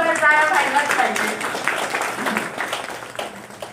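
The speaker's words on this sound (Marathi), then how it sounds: "ही दुसरी आवृत्ती निघते म्हणून जोरदार टाळ्या व्हायलाच पाहिजे" Audience applause at a Marathi poetry book event celebrating a collection's second edition, a burst of clapping that starts strong under a brief voice and gradually thins out.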